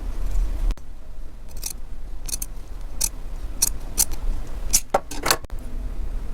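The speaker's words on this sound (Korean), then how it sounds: "시접을 2mm 정도 남기고 짧게 잘라주세요" Scissors trimming the seam allowance on a satin fabric strap, a series of sharp close snips in an uneven rhythm of about a dozen cuts, with no talking.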